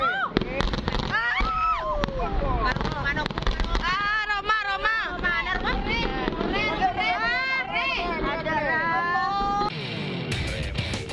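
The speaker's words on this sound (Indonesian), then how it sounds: "Inilah video amatir saat sebuah balon udara meledak di Kecamatan Pengantenan, Kabupaten Pamekasan, Jawa Timur." A firecracker-filled hot air balloon bursts over Pengantenan, Pamekasan, East Java, with crackling pops and bangs mixed into loud shouting and screaming from a nearby crowd.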